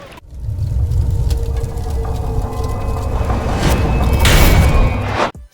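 Sustained rapid gunfire from an expensive skinned gun in Delta Force, a loud, dense stream of shots with booming low end, stopping abruptly near the end.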